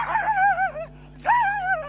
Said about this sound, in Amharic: ምንድነው ውሻ መኪናና ሞተር ምናምን ሲያይ ሚጮህ